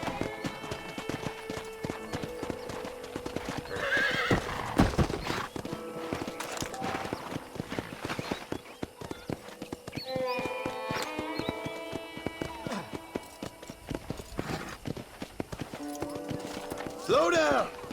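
Horse in Red Dead Redemption on a ranch: brisk clip-clop hoofbeats running throughout, with neighs and whinnies, mixed with game music and people talking.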